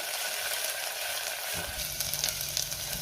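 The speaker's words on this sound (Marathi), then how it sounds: "तेल गरम झाले, त्यामध्ये मी कांदा घालते. कांदा मी 2 मिनिटं परतून घेणार आहे." Onion frying in hot oil for mutton sukka: a dense, steady sizzle that grows fuller and rougher partway through, close and continuous with no talk.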